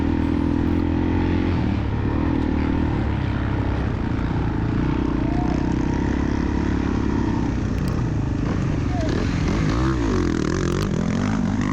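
Motocross dirt bikes in a muddy cross-country race, with one engine droning loud and constant up close while other bikes rev and rise in pitch as they pass near the end.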